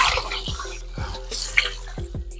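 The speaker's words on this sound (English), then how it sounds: "throwing the water on it" Water splashes and drips over raw oxtail in a sink after a vinegar wash, with several short pouring bursts and trickles close by, quiet and without talk.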